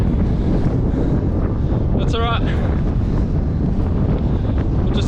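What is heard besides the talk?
wind blowing outdoors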